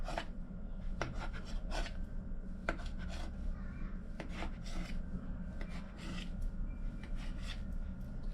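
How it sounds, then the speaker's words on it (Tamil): A knife slices rolled rainbow poori dough into even pieces, with a series of short, faint cuts and soft scrapes against the board spaced irregularly, no talk. "அடுத்து கரெக்டாக ஒரே அளவாக கட் பண்ணி எடுத்துக்கலாம் எல்லாத்தையும்."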